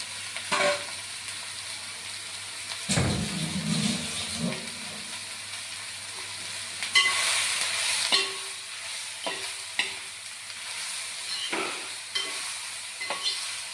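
An egg frying in a pan while being stirred, a continuous close sizzle and hiss broken by scrapes and knocks of the spoon against the pan, with no talk.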